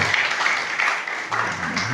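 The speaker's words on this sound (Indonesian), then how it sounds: "Tepuk tangan bagi Tuhan" A church congregation applauding together, a steady wash of clapping that holds for a couple of seconds, with voices mixed in toward the end.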